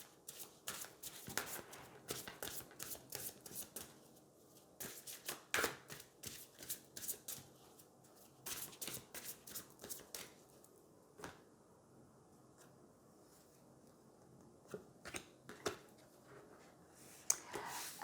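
Tarot cards are shuffled by hand in quiet, brisk bursts of crisp riffling and flicking taps, with short pauses between clusters and near-silent gaps.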